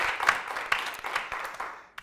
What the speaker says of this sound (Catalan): Un aplaudiment per a la Montse, que ho ha intentat.